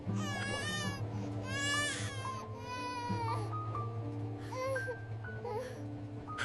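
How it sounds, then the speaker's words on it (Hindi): Several children crying and wailing together in a train carriage, overlapping sobbing cries that rise and fall continuously and fill the space at close range, with some babbling mixed in. "और फिर अचानक एक बच्चे की रोने की आवाज गूंजी"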